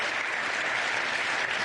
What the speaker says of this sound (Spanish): También dedican un aplauso